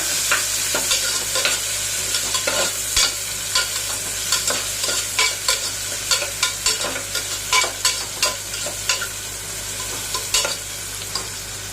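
Onion, tomato and garlic sizzle steadily in a hot pan while a utensil stirs and scrapes in a loose, repeating rhythm, close and with no talking.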